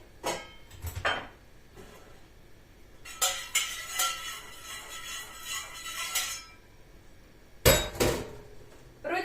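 A homemade solution for orchids is stirred in a container, giving bursts of clinking, knocking strokes in irregular clusters, close and fairly clear, with quiet pauses between.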